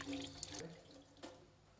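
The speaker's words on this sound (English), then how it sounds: "The hands are simply cleaned with clear water." Hands are rinsed under clear running water, a brief close splash and trickle that swells twice and then fades, with no voices.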